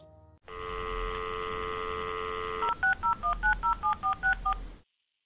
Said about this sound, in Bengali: তারপর ফোন করে।